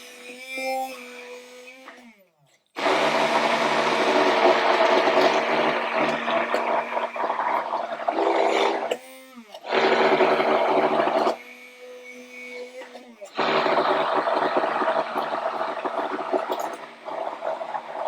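Blender churning a creamy vegan gluten-free scone mixture, loud and close in long grinding bursts with brief pauses between, the motor pitch shifting as the thick batter is pushed around.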